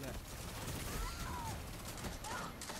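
Rapid gunfire from a weapon in a first-person shooter game, sustained bursts blending with game noise and effects across the whole stretch, steady and fairly loud with no pause.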